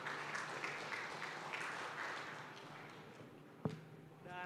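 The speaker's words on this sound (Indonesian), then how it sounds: "kita tepuk tangan dulu untuk kita semua." Applause from an audience at a youth leadership event, steady dense clapping that fills the room and tapers toward the end, followed by a single sharp knock.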